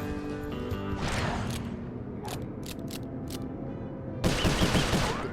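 Rapid bursts of gunfire shoot away road obstacles in the video game Sly Cooper 4, with sharp rattling volleys over a steady background rumble of game sound and a louder burst near the end.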